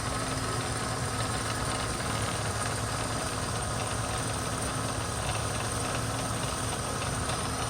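Worn water pump on an idling VW Passat B3 16V engine, heard up close as a steady dense mechanical whir and hum with constant rough vibration, alone.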